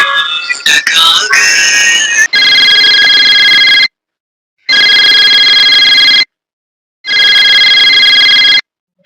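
A telephone rings loudly in three long electronic tone bursts with silent gaps between them, preceded by a brief jumble of other sounds.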